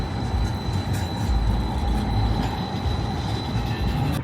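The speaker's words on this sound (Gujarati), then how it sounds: "આ જો રોડ ઉપર ચાલતી ટ્રેન" A train runs along a street in Detroit, producing a close, steady rumble of wheels on rails with faint metallic squeal and a constant tone throughout, with no speech.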